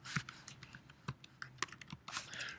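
Crisp, irregular keystrokes on a computer keyboard, clustered in quick bursts with short gaps, close and clear with no talking.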